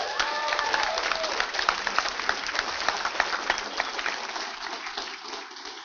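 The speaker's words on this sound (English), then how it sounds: "So especially give them a round of applause." An audience at a NASA Space Apps Challenge hackathon applauds its sponsors, a dense crowd of clapping hands with a brief voice at the start, the clapping thinning slightly toward the end.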